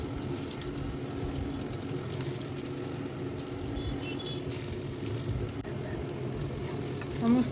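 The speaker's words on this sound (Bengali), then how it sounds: "এবার ডিমের ব্যাটারের মধ্যে প্রত্যেকটা আমি চুবিয়ে তেলের মধ্যে ভেজে নিচ্ছি।" Egg-battered bhetki fish muitha fry in hot oil, giving a steady, moderately loud sizzle throughout with faint watery bubbling underneath and no speech.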